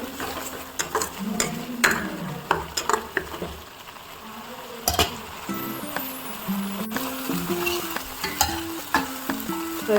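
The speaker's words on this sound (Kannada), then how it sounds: "ಈಗ ಆಯಿಲ್ ಫ್ರೈ ಆಗಿದೆ." Spices fry in oil for rasam, giving a continuous close sizzle broken by sharp spoon clinks and scraping stirs, with a faint voice now and then underneath.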